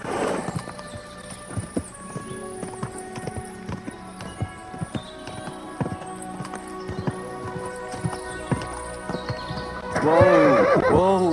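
A horse ridden in Kingdom Come Deliverance 2 clops along in steady hoofbeats for most of the stretch, then lets out a loud, wavering neigh near the end.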